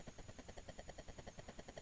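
A helicopter in the Commodore 64 game Apache Strike, rendered as a fast, even, chopping rotor pulse of noisy beats under a thin high whine, faint and steady.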